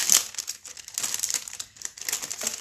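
Crinkling plastic packaging being opened around a package of rhinestone sewing accessories, close and fairly loud, in bursts of crackling rustle with brief pauses and no talking.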